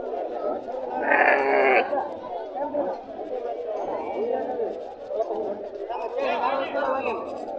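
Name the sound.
sheep and goats bleating at a livestock market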